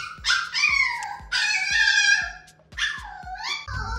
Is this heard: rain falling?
no